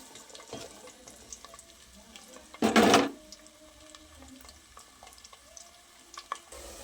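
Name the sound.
ivy gourd (tindora) frying in hot oil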